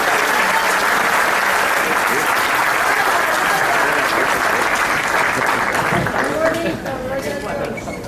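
A church audience gives sustained, loud applause for a gospel quartet, with crowd chatter mixed in. The applause thins toward the end.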